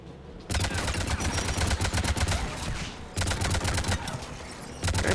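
Anti-aircraft guns in Mass Effect fire a loud, sustained barrage of rapid shots that breaks off for a moment near the middle and then resumes, heavy and close, without voices.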